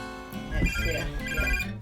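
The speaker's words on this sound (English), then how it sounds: "Drew quickly gets on the phone to Rebecca to share the news." A telephone rings with a repeated electronic ringtone, its bright tonal bursts recurring at a steady pace, fairly loud and close, with some voice-like sound mixed in.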